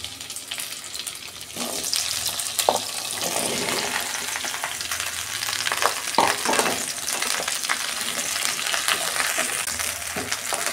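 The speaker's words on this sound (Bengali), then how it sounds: "ঢ্যাঁড়সটা আমি 2 মিনিট ভেজে নেব।" Okra sizzles in hot oil in a wok, a continuous close frying hiss broken by scattered pops and stirring scrapes, with no talking.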